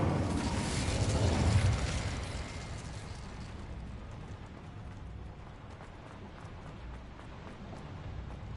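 A fiery Incendio spell cast in the video game Hogwarts Legacy bursts out loud and full in a short whoosh, then falls away into a steady rushing crackle over the remaining seconds.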